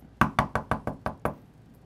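A delivery rider knocks on a door: seven sharp, evenly spaced raps in quick succession, loud and close, then silence.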